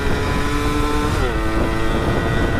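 A Yamaha F1ZR 2000 two-stroke motorcycle with a Chan Racing muffler exhaust being ridden: a loud, continuous close engine drone whose pitch shifts partway through.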